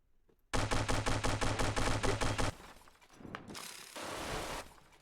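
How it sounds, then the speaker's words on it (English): A minigun fires in the boat-building game From the Depths, a dense, rapid burst of loud rattling shots lasting about two seconds, then rumbling explosion-like noise and a hissing wash as the barrage stops. "I have a minigun."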